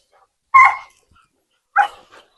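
Two sharp barks from a Kopay dog, the second followed by a softer yip, separated by about a second of silence, close and fairly loud.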